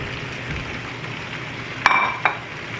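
Mixed vegetables for a Bengali labra, including radish, ridge gourd and pumpkin, fry in a pan with a steady low sizzle, broken by two sharp metal clinks of a spatula against the pan near the end.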